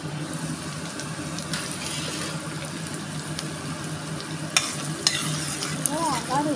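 Ginger and garlic paste fries in a pan for a mutton curry, a steady broadband sizzle with scraping stirs throughout and a few sharp utensil clicks near the end.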